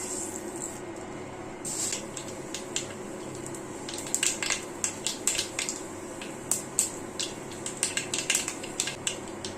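Mustard seeds spluttering in hot coconut oil for a pumpkin-leaf thoran: sharp, irregular pops and crackles that grow denser over a low steady hiss, close by.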